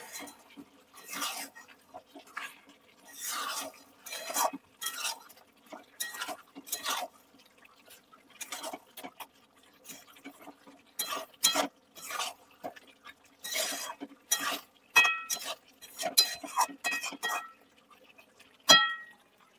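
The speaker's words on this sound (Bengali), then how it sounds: "কাশ্মীরি লঙ্কার গুঁড়োটা দেওয়ার পর আমি ভালোভাবে মিশিয়ে নিচ্ছি।" Chicken with Kashmiri chili powder is stirred in a pan for Bengali-style chicken kosha: repeated scraping strokes and light clinks of a utensil against the pan come in irregular bursts, close up, with no talking.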